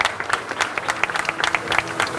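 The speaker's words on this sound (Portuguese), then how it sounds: "peço uma salva de palmas ao nosso secretariado" A press conference for a Santo André food festival breaks into brisk applause, a crowd clapping in quick, close bursts for a couple of seconds.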